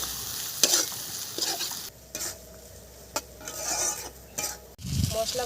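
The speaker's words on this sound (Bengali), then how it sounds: "এখন এটা 5 থেকে 7 মিনিট খুব হালকা আঁচে এইভাবে কষতে থাকবে।" Spices with garlic, ginger and tomato are stir-fried in a pan over very low heat for a fish curry, with irregular scraping spatula strokes and a gentle sizzle between brief pauses.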